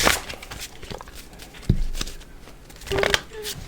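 Someone shuffles a deck of tarot cards during a live reading, a few seconds of close, crisp riffling and shuffling bursts with no talk over it.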